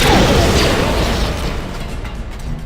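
A grenade detonates in Star Wars: Knights of the Old Republic, a loud, heavy boom at the start that rolls into a decaying rumble with debris-like crackle.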